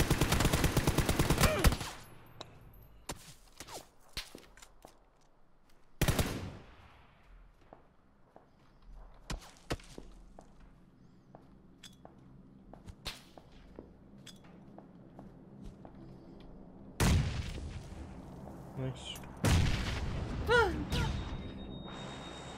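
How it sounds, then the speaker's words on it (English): Gunfire in PlayerUnknown's Battlegrounds comes as sharp single shots and short bursts, some loud and close, others fainter and distant, separated by footsteps and quiet gaps. "Where am I being shot from? I don't know, someone was shooting me."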